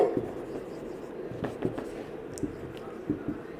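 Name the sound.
writing on a board while explaining optical density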